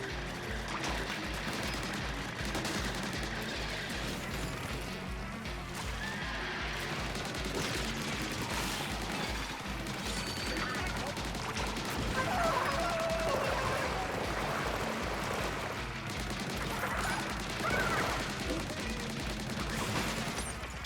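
Continuous gunfire and busy action effects fill the scene while enemies are shot in the Splatoon Raiders video game, dense and steady throughout with no clear pauses.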